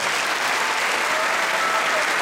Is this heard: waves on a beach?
no